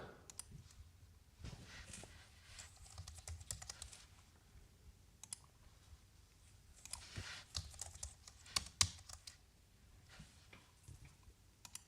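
Typing on a computer keyboard, quiet and close, in irregular bursts of soft key clicks separated by short pauses, over a low background hush.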